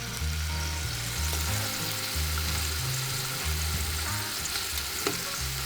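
Scallops sizzling in well-heated oil in a pan, a steady close crackle and hiss throughout with a low rhythmic thumping underneath, no talking.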